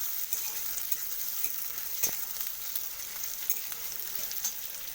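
Chopped garlic fries in a pan for a taro lentil dal, giving a steady, soft, even sizzle with faint crackles throughout and no talk.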